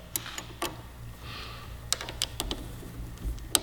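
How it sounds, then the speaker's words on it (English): Metal wrench clicks and taps while tightening a locking nut on a Yamaha R3 motorcycle brake lever, a CRG lever install, heard as a few sharp, close, irregular ticks in a quiet room. "I'm going to use a backup wrench now."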